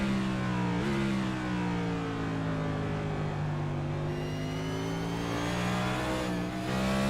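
An onboard race car engine at Martinsville in the ICON Cup Series drones loudly and continuously, its pitch dipping and climbing through corners and straights with no talking.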